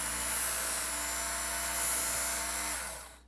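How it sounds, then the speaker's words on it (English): A small knife sharpener with a built-in belt sander runs steadily at a rod-building bench, giving a loud, continuous high-pitched whirring grind for the whole stretch before cutting off abruptly at the end. "this great little knife sharpener that's got a belt sander in it"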